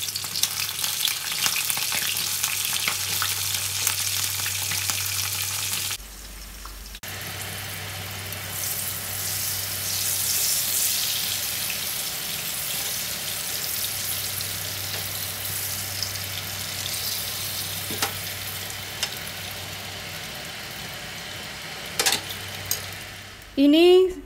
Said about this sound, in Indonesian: Terongnya digoreng dulu sampai matang.